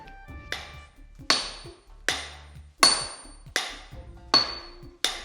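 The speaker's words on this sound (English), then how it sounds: "The hammer weighs about 7 kilo and is attached to the end of a 1 meter long stick" A heavy hammer of about 7 kg on a one-metre handle strikes metal in a katana smithing workshop: seven loud, close, ringing blows at a steady rhythm with brief decays between them.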